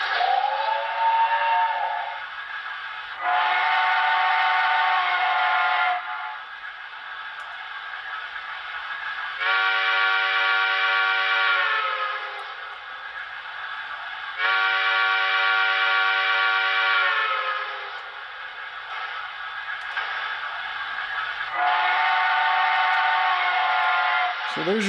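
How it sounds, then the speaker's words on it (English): An HO scale Broadway Limited T1a/T1b Berkshire steam locomotive sounds its DCC alternate whistle in five long chime blasts about two to four seconds each, separated by short gaps filled with steady chuffing and running sounds. "And then people ask for F22, which is the alternate whistle."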